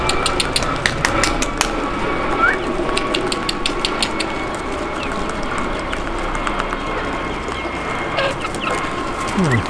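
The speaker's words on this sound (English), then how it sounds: "I don't know how many chickens there are in here." Chickens cluck and murmur continuously in a coop, with sharp clicks and taps scattered through the clip and a low engine-like rumble underneath.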